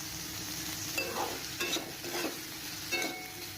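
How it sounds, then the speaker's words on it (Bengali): Cauliflower fries with salt and turmeric in a pan, a soft steady sizzle broken by a few scraping stirs of the spoon, close and fairly quiet with no talk. "তো তারপর ফুলকপিটা দিয়ে একটু ভালো করে নাড়াচাড়া করে নিচ্ছি।"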